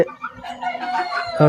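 Several Tiger chickens clucking close by on a poultry farm, with a rooster's crow rising at the end, busy and overlapping.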